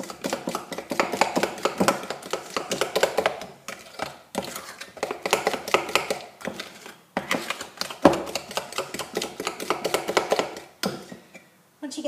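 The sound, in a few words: beating cookie dough ingredients by hand until creamy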